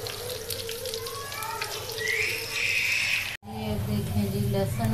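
A steady, crackling sizzle of garlic frying in hot ghee, continuous and fairly close, with a brief cut partway through.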